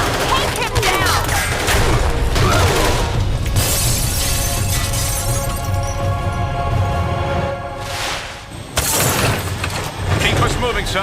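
Tranquilizer darts fired in the video game Marvel Ultimate Alliance 2, a dense, loud barrage of sharp cracks and shattering impacts over a rumbling action backdrop, with shouted voices mixed in.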